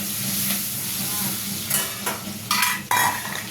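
Onion goes into hot oil with whole spices, a steady close sizzle punctuated by several metal spoon clanks and scrapes against the pan.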